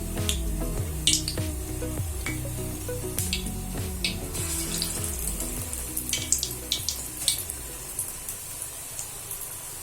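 Battered cauliflower pakora frying in hot oil gives a continuous watery hiss and crackle with scattered pops, heard alongside a low tonal background.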